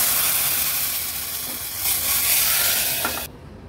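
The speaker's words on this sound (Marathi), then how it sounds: "आता ही शिजवलेली डाळ आहे ती फोडणीला घालूया।" Cooked dal is poured into hot tempering of oil, asafoetida and turmeric, letting out a loud, broad steamy hiss that holds for about three seconds and then cuts off abruptly.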